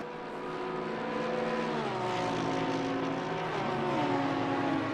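A Mercedes race car in the sim racing game Assetto Corsa Competizione roars steadily at Zandvoort, its engine notes climbing and dropping through gear changes, with other cars blended in and no talk.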